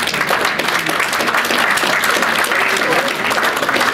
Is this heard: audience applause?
yes